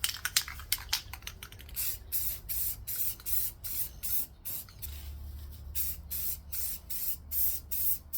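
Clear coat sprayed from an aerosol can onto a car headlight, a run of short hissing bursts in a quick, fairly regular rhythm, close and moderately loud with no talking.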